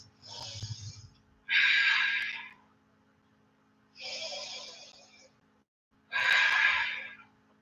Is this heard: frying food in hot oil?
no